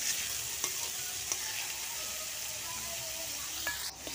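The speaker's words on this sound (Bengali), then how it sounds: "পুরো তেলেই ভাজা হবে আলুটা" Diced potatoes frying in plenty of oil with no water, for a spicy semolina snack: a steady, close sizzle runs throughout, broken by a few light stirring scrapes.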